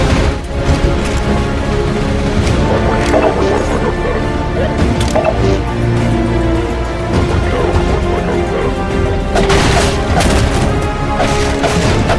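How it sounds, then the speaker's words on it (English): Grenade explosions and combat in the video game Half-Life 2: several heavy booming crashes and smashing impacts over a busy, continuous battle din, with loud bursts near the start and again toward the end. "that grenade hit me in the face"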